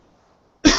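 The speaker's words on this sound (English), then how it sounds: "I'm starting to get a cough." A person gives a single sharp, loud cough that breaks abruptly out of near silence near the end.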